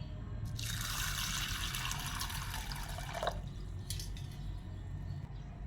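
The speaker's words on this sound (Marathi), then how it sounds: "मी अगोदर ही डाळ छान पाण्याने धुवून घेते" Lentils are washed in water that splashes and swirls steadily for a few seconds, then settles into faint dripping and trickling, heard close up with no talking.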